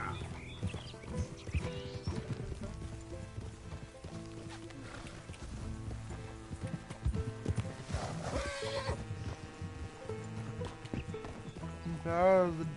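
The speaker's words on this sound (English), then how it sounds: "There's the donkey." A donkey in the Red Dead Redemption 2 video game, with clip-clopping hooves and a braying call near the end over game music and talk.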